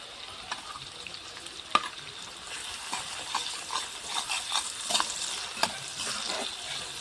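Ginger-garlic paste sizzles in a pan with tomato pieces while being cooked for an egg vapa dish. A soft, steady frying hiss carries small scrapes and stirring clicks, with no talk.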